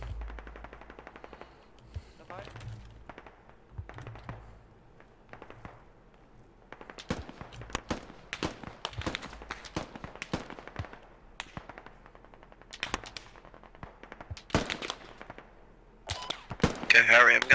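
Sustained gunfire rattles through a tactical video game battle around Talil Outskirts, with bursts of machine-gun and rifle shots near and far coming in uneven clusters while a player is pinned under fire and voices talk over it.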